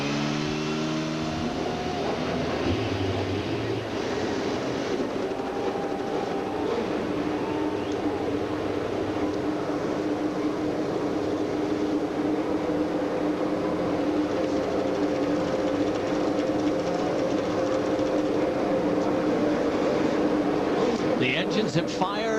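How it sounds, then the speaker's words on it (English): IndyCar race car engines at the Sonoma Grand Prix rumble and idle together in a dense, steady drone, with an announcer talking over the continuous engine noise. "The engines have fired."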